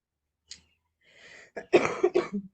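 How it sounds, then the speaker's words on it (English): A short burst of coughing from a sick person up close: a faint click, a breathy rasp, then several harsh, loud coughs in quick succession with no talking. "I'm a little bit sick today, so I'm gonna cough a little bit"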